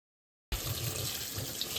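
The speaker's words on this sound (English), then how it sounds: "let's listen to me wash my hands" Hands are washed under a running tap, a steady close splash of water starting abruptly after a moment of silence and continuing evenly.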